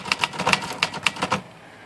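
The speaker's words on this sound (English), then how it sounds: "real nice little typewriter that is all fixed up and working" A Smith Corona Skyriter portable typewriter being typed on up close, about nine crisp key strikes in a quick, slightly uneven rhythm before the clacking stops.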